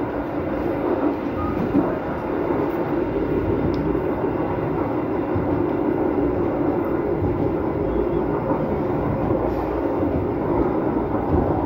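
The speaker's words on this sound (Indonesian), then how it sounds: "Ternyata balapan sama KRL dan menang KRL-nya karena di sana tidak di Taspat." KRL commuter train on the Bekasi–Cakung–Jatinegara double-double-track railway line, a steady, loud rumble of wheels and cars rolling along the rails, continuous and close with no speech over it.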